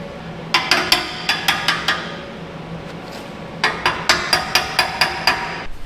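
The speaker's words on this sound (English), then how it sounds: "I need a hammer." Two rapid bursts of sharp metallic hammer strikes, about eight blows each, separated by a pause, ringing close and loud over faint background hum, while installing a remote cannon on an ex-army fire truck.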